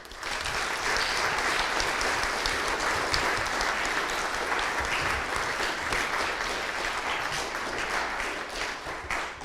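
A school assembly audience gives sustained loud applause for a girls' sports team, thick continuous clapping from a big crowd lasting the whole stretch with no speech.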